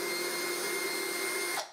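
A power driver running steadily as screws are driven into a wooden jig strip for 45-degree crosscuts, a continuous high whine that cuts off abruptly near the end.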